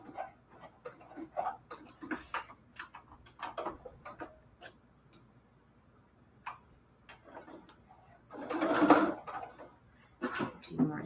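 A sewing machine stitches zigzag in quick bursts of mechanical ticking, starting and stopping, with a louder whirring run near the end; fairly quiet and close, no talk.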